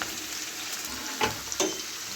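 Brinjal pieces fry in oil for a Bengali vegetarian pumpkin-greens chorchori, giving a continuous close sizzle broken by two quick spatula clatters near the end. No one speaks.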